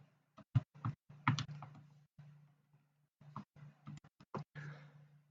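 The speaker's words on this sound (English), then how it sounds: "if we type this on a calculator, give me a second here" Keys pressed on a calculator: a string of sharp, close clicks in small irregular clusters with short pauses, over a steady low hum.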